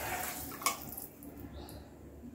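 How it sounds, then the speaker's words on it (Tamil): Water is poured into sugar in a pan while making Mysore pak, a faint, steady splashing trickle with no voices. "இப்போ 250 மில்லி லிட்டர் தண்ணி ஊற்றிக்குவோம்."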